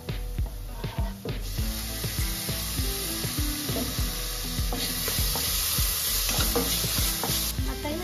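Chopped tomato stirred into golden-browned onions frying in a pan for street-style anda bhurji, sizzling steadily with repeated scraping and stirring strokes throughout, close and alone with no talk.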